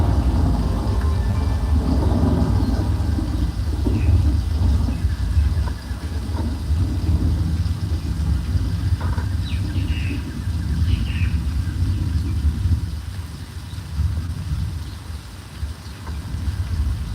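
Heavy simulated rainstorm and rushing floodwater from the flash flood effect on the Universal Studios Hollywood backlot, a loud steady roar of pouring water with a deep rumble throughout and no talk.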